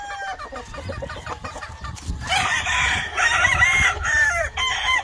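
McRae chickens on a farm, a mix of pure and crossbred McRae and Jap birds, cluck in a low busy chorus, then a rooster's crow rises loud and near, with more crowing and clucking layered through the rest.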